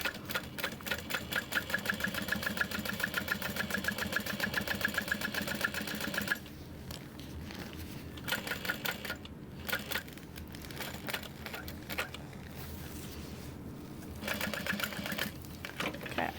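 A sewing machine stitches a backpack in rapid rhythmic bursts, the close mechanical clatter running steadily, pausing briefly, then resuming, with no speech over it.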